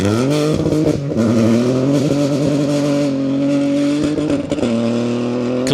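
A Peugeot rally car with an open front end drives a stage, its engine loud and close, revving hard with repeated gear shifts and pitch swings throughout.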